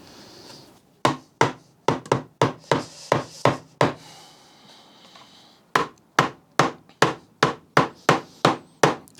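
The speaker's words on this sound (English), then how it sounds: "get a lump hammer and just make sure all of that goes in that way" Lump hammer or rubber mallet knocking dining chair joints together, two bursts of sharp, close wooden blows in quick steady rhythm, about a dozen strikes each, separated by a short pause.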